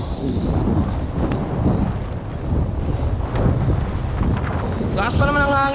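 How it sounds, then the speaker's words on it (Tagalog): Strong wind buffeting at a hanging bridge in Baler, a loud continuous roar with heavy gusts rumbling against the microphone, and a faint chirp near the end. "Lakas pa naman ang hangin"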